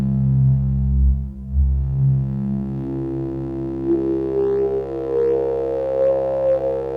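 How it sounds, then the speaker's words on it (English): A Cre8audio East Beast synth voice holds a sustained, harmonically rich drone with reverb switched on, its resonant overtones shifting and singing as the filter moves, heard alone and fairly loud. "Let's put the reverb on."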